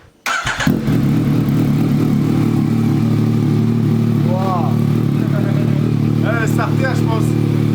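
A Yamaha MT-09 SP motorcycle starts for the first time: the starter catches and the engine settles at once into a loud, steady idle that holds throughout, with people talking over it.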